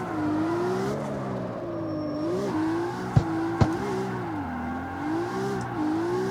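A Toyota Supra in the racing game CarX Street drives steadily with a continuous engine drone that rises and falls as it accelerates, with two brief sharp knocks midway and no talking.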